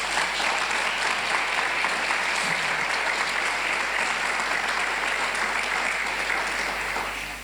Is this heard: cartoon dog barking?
no